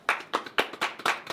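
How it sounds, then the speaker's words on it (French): A few people clap together in a short burst, four or five quick, close, sharp claps in an even rhythm. "On peut s'applaudir."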